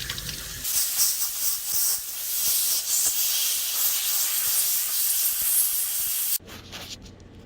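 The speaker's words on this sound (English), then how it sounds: "Blowing it out as well as I can." Compressed air blasts steadily through a cleaned carburetor from a 610 Mule, a loud continuous hiss lasting about six seconds before cutting off abruptly into quieter background noise.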